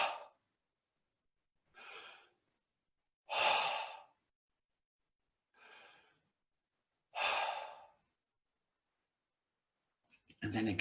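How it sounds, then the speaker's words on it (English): Deep meditative breathing: five slow, separate inhales and exhales spaced by silent pauses, close and soft, with some breaths noticeably stronger than others. "You inhale deeply."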